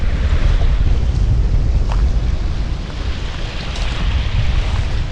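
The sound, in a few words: wind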